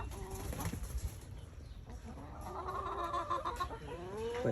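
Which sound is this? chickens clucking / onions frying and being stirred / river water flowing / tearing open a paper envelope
chickens clucking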